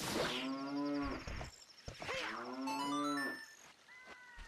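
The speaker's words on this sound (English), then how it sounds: "Nice opponent sound. Moo! Yep, moo!" A cow moos in a few long, drawn-out calls, loud and close, carried over an opponent's stream in a video game tournament, with faint higher tones in the background.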